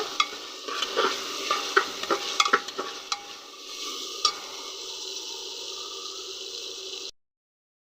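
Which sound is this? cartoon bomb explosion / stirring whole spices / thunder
stirring whole spices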